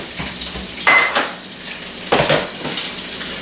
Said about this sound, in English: All right, so I'm going to drain this fat.